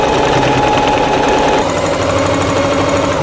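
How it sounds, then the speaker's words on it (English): Sewing machine stitching the front sections of a homemade graduation dress, a loud steady motor drone with rapid needle vibration running continuously throughout, with no talking. "So I'm gonna sew the front sections first"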